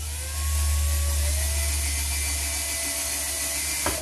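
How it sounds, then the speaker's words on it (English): A power drill whines steadily for about three seconds, then winds down, followed by a brief sharp knock. "what I'm going to do is drill a hole down through here"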